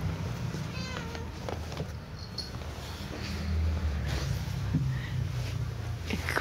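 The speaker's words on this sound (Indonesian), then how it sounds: "Ada suara kucing, maaf," A house cat gives short meows early on, against kitchen background noise and a low rumble, with faint mouse-like squeaks.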